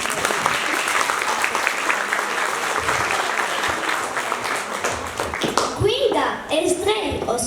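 A school audience applauds at a farewell ceremony for a teacher, a dense clapping crowd that fades near the end as children's voices and talk take over.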